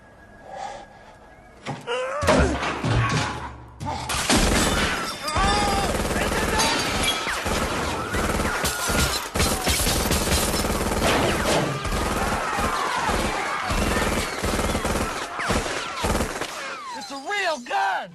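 A rapid burst of loud gunshots from a real gun rings out in a tense hostage scene, mixed with crashes, shouting voices and chaotic clatter over several seconds.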